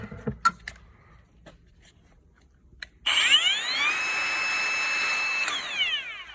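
A Kobalt cordless grinder spins up abruptly and runs loud and steady for several seconds with a high whine, after a few faint knocks and handling noises.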